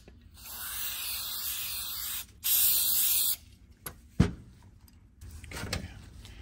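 Aerosol lubricant sprayed close up onto a part of an old barn-find Briggs engine in two steady hissing bursts, followed by a few light clicks and handling noises.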